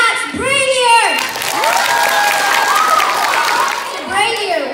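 A crowd of children claps, cheers and shouts for author Max Brallier at a school event, loud sustained applause with high excited voices swooping and calling out over it throughout.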